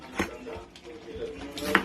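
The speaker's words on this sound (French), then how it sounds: "je coupe grossièrement mes échalotes" Shallots being roughly chopped with a knife for a Congolese cassava leaf soup: a few sparse, quiet thuds of the blade striking a board, with short gaps between them.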